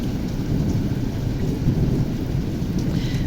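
A heavy downpour roars close by with a deep, continuous rumble of thunder rolling beneath the steady hiss of rain, loud and unbroken, with no voices.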